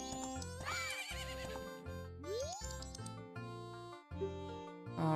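Epona, the horse in the Zelda game Majora's Mask, gives a neigh with a rising whinny over the game's steady background music, brief and fairly clear.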